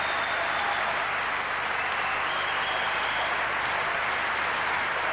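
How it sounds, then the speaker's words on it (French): Steady applause from a tennis crowd at the close of a match on a centre court, a dense, even wash of clapping held for several seconds without any voices over it. "Applaudissements."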